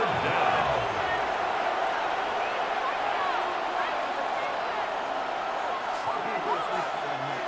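Stadium crowd noise roars in a Madden NFL 26 football game, a dense steady wash of cheering that stays loud throughout, with faint squeaks and thuds within it.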